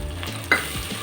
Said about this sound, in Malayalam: എണ്ണ ഒഴിക്കുക, കുറച്ച് നെയ്യും ഒഴിച്ചിട്ട് നമ്മൾ സവാള ഇടുക.